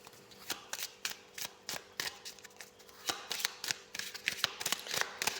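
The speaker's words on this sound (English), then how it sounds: "So I gave these cards a good shuffle." A deck of tarot cards is shuffled close by in a run of crisp, riffling bursts and soft slaps with short pauses between them.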